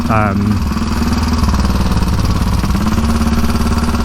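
Steady, loud, throbbing engine of a 1934 Velocette KTT motorcycle while riding, with someone talking over the constant beat.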